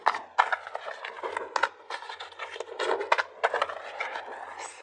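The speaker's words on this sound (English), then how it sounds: "I have a little 2-month-old guinea pig that I bought as a companion for my older one" A two-month-old guinea pig scuffles and scrabbles about nearby, producing rapid, irregular clattering taps and rustles in quick clusters, close and moderately loud, with no speech over it.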